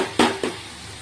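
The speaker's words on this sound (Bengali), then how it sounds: "কষাতে কষাতে দেখবে এই চারিদিক দিয়ে কিন্তু তেল ছেড়ে দেবে" A spice paste is stirred and fried in hot oil in a pan for a curry, with two quick scraping strokes over a soft, steady sizzle.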